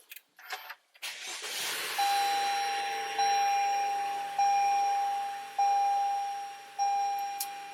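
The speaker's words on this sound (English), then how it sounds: "Let's start the vehicle." A 2019–2024 Toyota RAV4 cranks and starts in a short burst, then settles into a quiet hum while a dashboard chime sounds five times at even intervals.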